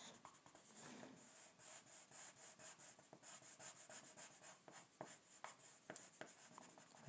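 A white pencil scratches and rubs across paper while drawing a glowing effect, with steady, close strokes of soft rasping that come in short, repeated bursts throughout.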